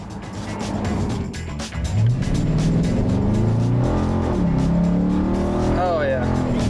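Supercharged Hemi Dodge Charger accelerating hard in Sport Plus mode, engine roaring and rising in pitch with a whine, loud and close from inside, a voice talking over it.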